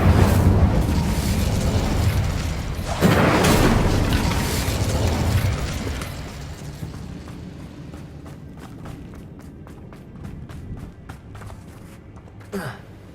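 Incendio fire spell cast in Hogwarts Legacy: two loud whooshing, booming bursts of flame a few seconds apart, each trailing off into a quieter stretch with soft scattered crackles and a small late pop.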